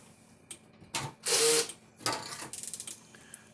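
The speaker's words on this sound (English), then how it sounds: "So now we're going to take a pair of snips and cut this twist tie off" Pair of snips cutting a twist tie off a fence charger wire harness, a few close metallic clicks and a short sharp snipping burst, followed by a light rattling of small clicks and handling.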